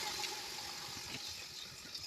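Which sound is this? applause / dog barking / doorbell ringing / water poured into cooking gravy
water poured into cooking gravy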